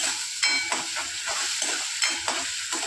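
Tomato puree added to a hot pan for pav bhaji, giving a continuous bright sizzle with rhythmic scraping stirs about every half second, no voices.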